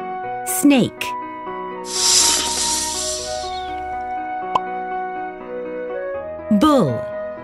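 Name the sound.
snake hissing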